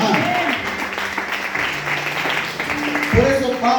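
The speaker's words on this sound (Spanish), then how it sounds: "Den una fuerte ofrenda de palmas al Señor" Congregation in a church giving a round of applause, a dense burst of clapping that carries on under a preacher speaking.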